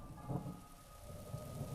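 Thunder rumbles under steady rain in the video game Zelda: Breath of the Wild, a low roll swelling and fading over a constant hiss of rainfall, with no talking.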